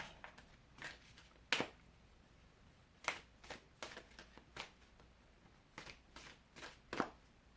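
Crisp riffling shuffles of tarot cards, about ten short bursts in an uneven rhythm, close and fairly quiet with no voices.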